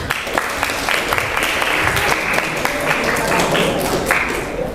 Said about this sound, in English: let's give a big applause for Michelle